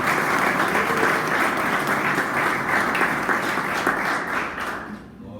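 A church congregation applauding, a steady, full roar of many hands clapping together, held evenly and then tapering off at the close.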